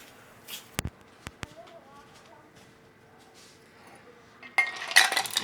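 Ice cubes for a Manhattan cocktail rattle and clink into a glass in a brief loud burst at the end. Earlier come a few sharp clinks and quiet handling sounds, with no talking.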